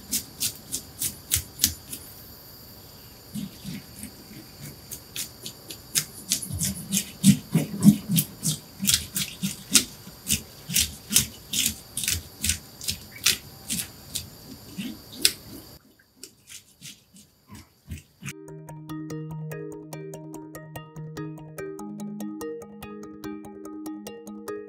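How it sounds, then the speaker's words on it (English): A fish scaler scrapes a sea bream from tail toward head in quick, repeated rasping strokes, close and crisp, for about fifteen seconds before giving way to quiet music. "we're going to scale off from tail towards the head with the scaler"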